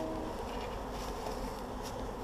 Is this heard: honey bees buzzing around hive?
yes